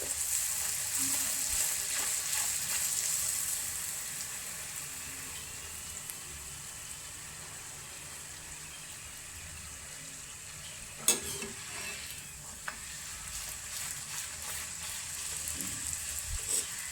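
Puri sizzle in hot oil, a steady frying hiss that swells at first, settles quieter, then flares with a sharp clatter of a utensil midway and grows louder again.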